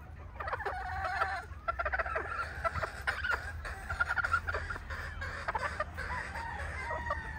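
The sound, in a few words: pullet chickens clucking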